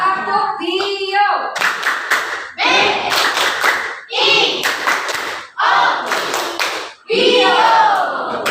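Students in a classroom perform the Indonesian tepuk bio clapping chant, with bursts of rhythmic hand claps alternating with children's chanting voices, loud and close.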